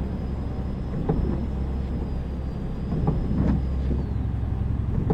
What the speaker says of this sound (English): there goes a train, nice